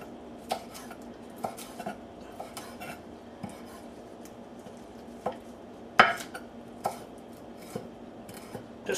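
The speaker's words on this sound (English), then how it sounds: "I think I want to cut it into strips." Knife cutting raw chicken into strips for a stir fry, with irregular clicks and taps of the blade against a board, some louder than others, spread across a quiet kitchen background.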